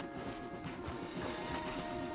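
Horse hooves clopping in Red Dead Redemption 2 come as a busy, irregular patter over a steady ambient game hum at moderate level, with no talking.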